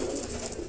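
Pigeons, a master pair of 35-breed birds, coo softly in a short, steady low murmur, close by with no talk.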